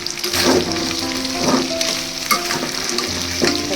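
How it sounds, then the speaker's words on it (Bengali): Goat meat with spices is reheated in a pan, giving a steady loud sizzle with a spatula scraping through it in a few spaced strokes. "খাসির মাংস একটু গরম করে নিচ্ছি"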